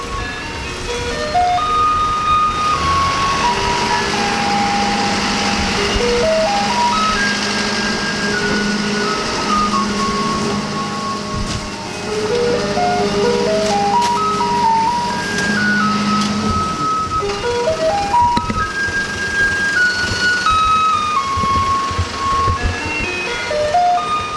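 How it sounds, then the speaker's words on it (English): A chiming electronic melody like ice cream truck music plays from a garbage truck, steady and fairly loud over a low engine rumble. "There's the garbage truck. Sounds just like an ice cream truck."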